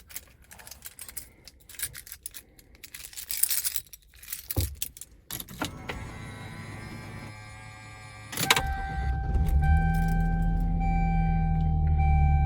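A 1999 Lexus SC300 is cold started after keys jangle and the ignition clicks; the engine cranks, catches and settles into a steady, raised fast idle with a humming whine, close and alone.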